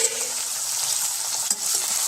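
Tomato frying in a pan with vegetables for a vegetable biryani, a steady close hiss of sizzling with a spoon stirring through it and one brief scrape near the end, no voices.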